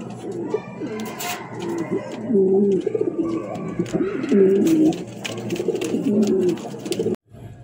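Red Lahori pigeons coo in close, repeated rolling phrases, loud and near, with a soft rustle at the end.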